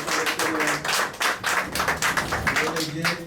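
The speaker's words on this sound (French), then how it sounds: "applaudissons le Seigneur" A church congregation claps in a steady, rhythmic beat, each clap a distinct loud burst, close and even, with a faint hum of voices underneath.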